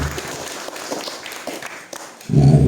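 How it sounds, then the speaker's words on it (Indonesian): An audience at a drug-awareness session bursts into loud applause at the very end, following a stretch of faint room noise and soft taps. "Oke, tepuk tangan dulu"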